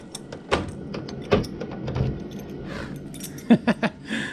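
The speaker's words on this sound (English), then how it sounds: "Somebody was hiding keys for this car behind the battery box." Car keys jangling as they are pulled from behind the battery box of a classic Chevrolet Impala under restoration, a few soft metallic rattles, then a cluster of sharper clinks near the end.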